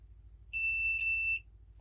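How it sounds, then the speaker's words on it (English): A multimeter beeps during a continuity test on a Lexus LS400 ECU circuit board, with traces scraped bare: a single clear, steady electronic tone lasting nearly a second over quiet background hum. "now I'm going to check for continuity"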